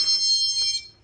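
A door alarm in a patient care building sounds one loud, steady electronic beep that holds for most of a second and then cuts off.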